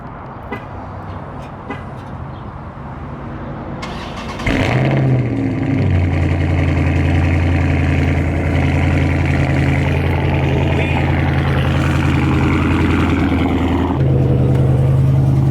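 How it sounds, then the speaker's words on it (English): A Dodge Charger 392 Scat Pack cold-starts after a few quiet seconds: the engine catches with a loud burst, settles into a high, steady rumbling idle close by, then steps up in pitch near the end. "You know we got to get the young cold start."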